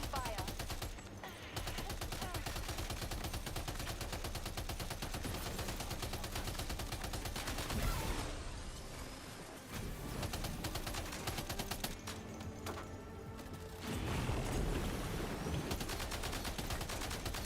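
Video game gunfire, dense volleys of rapid shots and blasts rattling almost nonstop, with brief lulls before the shooting resumes loud and close.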